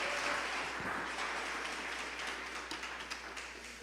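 Church congregation applauding and clapping for Jesus, a faint, diffuse wash of clapping that thins toward the end into a few scattered claps.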